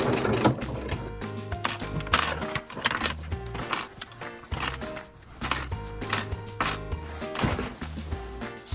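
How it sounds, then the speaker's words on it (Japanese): A domestic sewing machine running in quick bursts as it stitches faux leather parts for a mini camper's rebuilt pop-up roof, rapid mechanical needle chatter starting and stopping, close up with no talk. "見えないところなのでガンガン縫っていきます"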